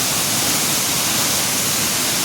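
Fast river water at Sol Duck Falls rushes steadily past, a loud, dense, unbroken wash of hiss and roar up close with no voices.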